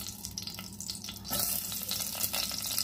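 Sliced shallots frying in a little hot oil in a pot on the stove, a steady close sizzle that swells louder about halfway through as they hit the oil, with no talking.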